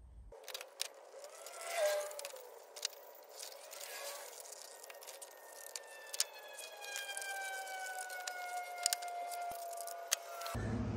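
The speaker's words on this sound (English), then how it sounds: "we're going to cut on the outside of that dotted line all the way around" Scissors cutting around a paper hubcap template, a faint run of soft snips and paper rustle with brief sharper clicks, alone and quiet throughout.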